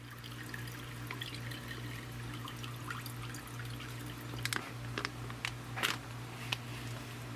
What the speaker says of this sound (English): I'm gonna pour all them juices in the pan down